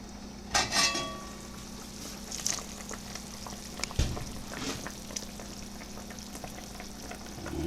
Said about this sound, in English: it's bubbling away inside at hour 2